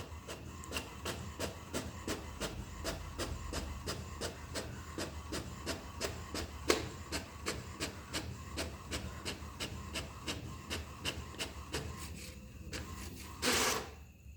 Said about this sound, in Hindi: यहाँ पर हमने प्रिंट का कमांड दिया और यहाँ पर स्टार्ट कर दिया स्टॉप वॉच।